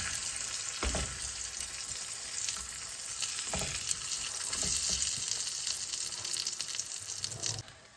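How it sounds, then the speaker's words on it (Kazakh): Flatbread dough frying in melted margarine in a pan, a constant close sizzle and crackle broken by a few soft clatters, with no talk. "Енді қазір осы майды кішкене ерітіп жібереміз да, одан кейін қамырымызды салып пісіріп ала беретін боламыз"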